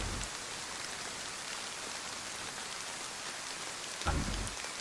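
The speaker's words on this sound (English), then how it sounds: "I just had to spawn into a rainstorm" A rainstorm in the survival video game DayZ: a steady, dense hiss of rain fills the scene, with a brief louder gust or splash near the end and no voices.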